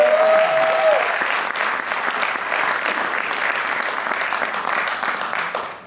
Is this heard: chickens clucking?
no